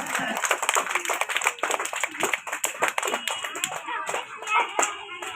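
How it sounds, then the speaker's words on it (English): A group of children clapping hands for prize winners at a flowers day gathering: a continuous crackle of quick claps from many hands, close by, mixed with speech and some shuffling. "Please clap your hand."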